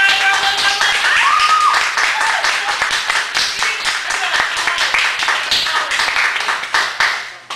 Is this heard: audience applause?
yes